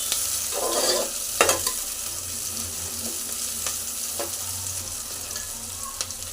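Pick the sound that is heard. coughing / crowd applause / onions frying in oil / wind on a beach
onions frying in oil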